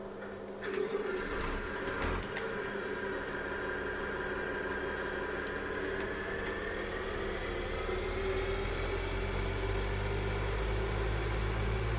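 Tractor engine in the farming game Farming Simulator 2013, a steady mid-pitched hum running continuously, with a rising whine toward the end.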